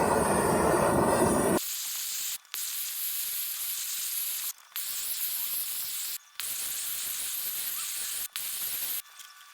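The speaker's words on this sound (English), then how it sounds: "If you're really worried about the corners and you happen to have a propane torch laying around, you can cook the corners with this." A propane torch roaring with a steady, broad hiss while heating the corners of a restored Blackstone griddle, cutting out briefly several times between long bursts.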